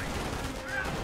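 SMG gunfire from Company of Heroes, a faint, muffled burst of rapid shots in a short close-range firefight, low in level beneath the game's background noise.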